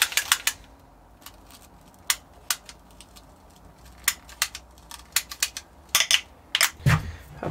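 A length of air hose is cut to fit a hose reel, giving a run of sharp, close snipping clicks at an irregular rhythm that end in a louder crunching burst as the blade goes through.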